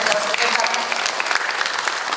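A crowd at a women's event honoring a former female president breaks into applause, a loud, dense and continuous roar of clapping filling the whole moment without talk.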